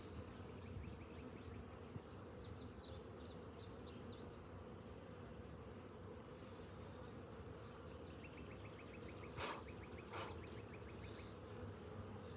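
Honeybees from a recently captured swarm buzz steadily around hive frames, a continuous nearby insect drone with a few brief louder passes, no talking.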